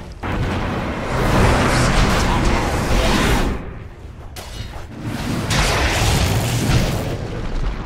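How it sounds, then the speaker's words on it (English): A defensive tower collapsing in a Dota match, a loud sustained booming crash of destruction with explosive bursts, dipping briefly before surging again, under an announcer's voice. "Dire's top tower has fallen."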